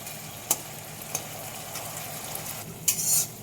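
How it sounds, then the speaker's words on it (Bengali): Hot oil sizzles steadily in a pan while a spoon stirs the mixture before potatoes go in for an egg and potato curry. A couple of sharp spoon knocks cut through, then a brief louder hiss near the end, close up, no voices. "এইভাবে অল্প নাড়াচাড়া করে আলুগুলো দিয়ে দেবো।"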